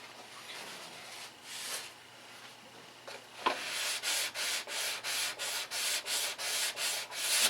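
Sandpaper sanding primer on a fuse part, first a few slow irregular strokes, then a steady run of quick back-and-forth rasping strokes, close and fairly loud.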